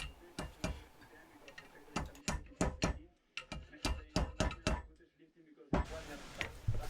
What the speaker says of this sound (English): I'm then using the old bearing race to protect the new one while I strike it